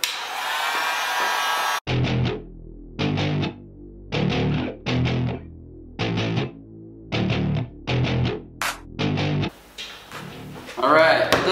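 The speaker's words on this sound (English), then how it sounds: "let me apply some heat to it and we'll start working." A heat gun warms old vinyl wrap, over five years on, for removal: a near, loud blowing whoosh cycles on and off in about ten short bursts, with a voice heard around it.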